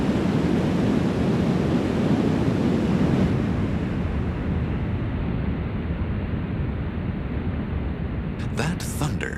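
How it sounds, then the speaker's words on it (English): A deep, constant roar of Niagara Falls, a huge volume of water plunging about 178 feet, fills the scene, steady and loud throughout, with a brief gusty rustle near the end. "That thunder is the sound of 41 million gallons per minute plunging straight down 178 feet."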